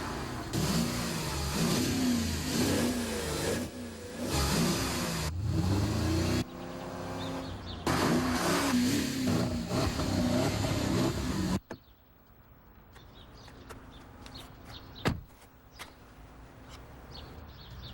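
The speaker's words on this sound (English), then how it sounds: "The 450 horsepower Porsche Cayenne Turbo." A 450-horsepower Porsche Cayenne Turbo revs and accelerates loudly and close, its engine note rising and shifting in strong surges before cutting off abruptly to a quiet background with a few faint sounds.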